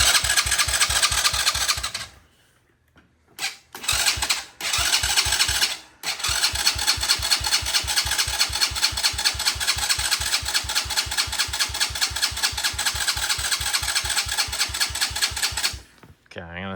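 A lawnmower engine cranks with rapid chugging, stalls into short pauses, cranks again and catches into a steady, close, rhythmic running beat, then briefly drops off near the end.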